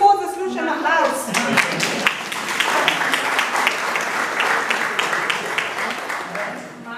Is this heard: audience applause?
yes